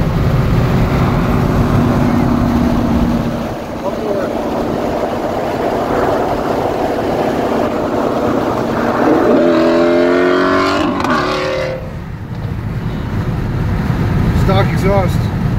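A Shelby GT350's engine rumbles loudly nearby at a racetrack, its exhaust droning and rising as it revs, with the tone shifting as the car moves off.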